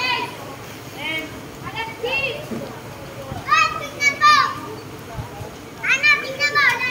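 Children shout and squeal while playing in deep flood water during heavy rain, their excited voices rising in bursts over a steady wash of background noise.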